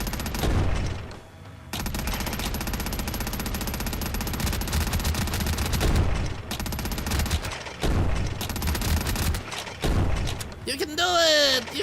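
Bombs explode in the zombie survival game Quarantine Zone as dense, rumbling blasts and crackling bursts roll on almost nonstop, pausing briefly between volleys, with a sweeping electronic tone near the end.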